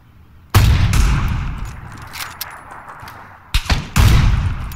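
Gunshots in a battle royale video game match: a sharp report, a couple of lighter pops, then two more loud close shots in quick succession near the end, with no talk.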